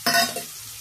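Fish curry with potatoes hitting a hot pan, a sharp close burst of sizzling and a stir that quickly settles into a fainter simmering hiss.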